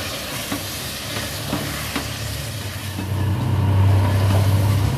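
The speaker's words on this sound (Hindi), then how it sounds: "आलू डाल के भी 2 मिनट मैं इसको भूनूंगी इसके साथ।" Potatoes and peas frying with spices in a pan for matar aloo curry, a close continuous sizzle with a few light stirring knocks early on, the frying growing louder and denser toward the end.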